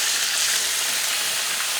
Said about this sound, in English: we're just going to toss our chicken in and let it pan fry